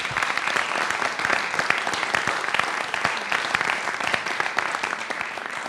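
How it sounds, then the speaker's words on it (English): An audience at a governor's wildfire response council meeting applauds, a steady, even wash of many hands clapping throughout, fairly close and without talk over it. "Let's give them a round of applause"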